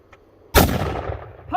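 A single loud, close gunshot from a bullpup-converted Mosin rifle fitted with a muzzle brake and a spring-loaded stock, a sharp crack followed by a booming tail that rolls on for about a second before a voice reacts.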